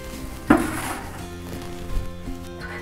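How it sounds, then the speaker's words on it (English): A sharp metallic clank of a tray or rack opens the scene as a thick crust pizza base goes into a preheated oven, followed by a few softer clinks and a low steady hum. "And now I'm placing my thick crust pizza base for the baking of 10 minutes"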